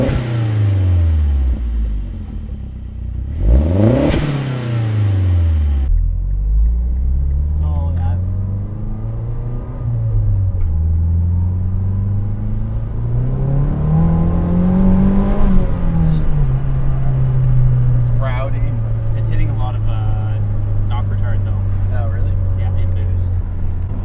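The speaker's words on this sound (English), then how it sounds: "You pray to the car gods and you start it." A 2008 Mazdaspeed3 with a fresh K04 turbo and high-flow catted downpipe cranks and fires, then blips through several rising and falling revs before settling into a steady idle, close and loud, with people talking over it.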